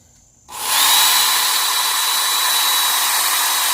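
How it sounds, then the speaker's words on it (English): A belt grinder running a 400 grit belt to sharpen a broadhead starts up after a brief quiet moment, then gives a loud, steady abrasive whir and hiss that holds close and constant to the end. "I'm just going to use it like a regular old belt grinder"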